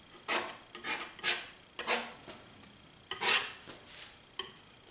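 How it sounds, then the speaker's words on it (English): Palette knife scraped back and forth over thin oil paint on canvas during a landscape painting of afternoon clouds; a series of short rasping strokes at an uneven rhythm, close and alone. "soften some of these edges just by using my knife back and forth. And doing some scraping at the same time to keep it thin."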